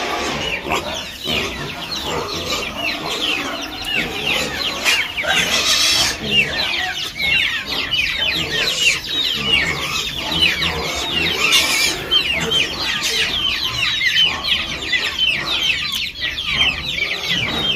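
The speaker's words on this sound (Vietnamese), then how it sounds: "Gà vẫn to nhé." A flock of chickens on a farm clucks and chirps continuously, a dense busy chorus of many birds close by, loud and steady throughout.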